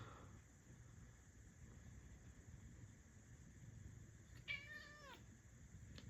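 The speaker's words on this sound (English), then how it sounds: "My cat has come to join us." A house cat meows once, a short clear rising-and-falling call in a quiet room with a faint low background hum.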